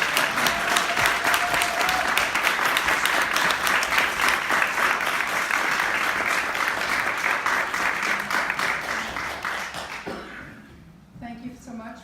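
An audience at a community cooking event gives loud, sustained applause to welcome two speakers, holding strong for about ten seconds before dying down into scattered claps and murmuring.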